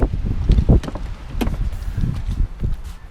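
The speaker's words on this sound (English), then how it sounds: "I don't know how bad the wind is out here" Wind blows outdoors, buffeting the microphone with uneven low rumbling gusts, moderately loud and without speech.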